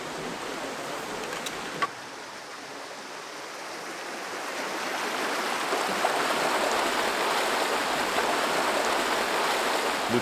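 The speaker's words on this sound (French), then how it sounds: "On a le ruisseau la rivière qui est beaucoup trop proche." A river stream runs right next to an outdoor short-film set, giving a steady broadband rush of flowing water that swells a little louder midway, with a couple of faint knocks and no voices.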